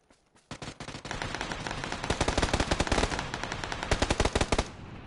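Automatic gunfire in a video game rattles out in long, loud, rapid bursts of close shots with almost no pause between them.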